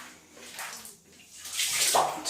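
Water runs and splashes as a rag is rinsed in a bathroom, a soft hiss that swells into louder gushing toward the end, moderately close with no talk.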